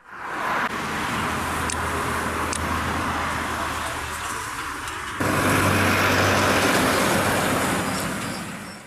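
Heavy traffic roars steadily on the D-100 highway through the Bolu Mountain section, with lorries and trucks slowing on the climbs. The sound is a loud, continuous broadband rush, and the roar swells a little partway through.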